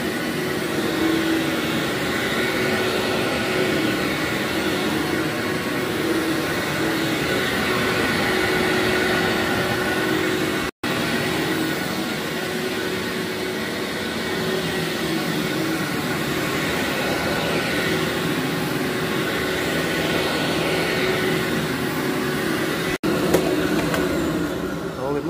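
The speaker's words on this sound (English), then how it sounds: "So I just vacuumed this area here." A loud, continuous motor drone with a steady whine runs throughout, briefly cutting out once before resuming, a vacuum cleaner working on a very dirty basement carpet.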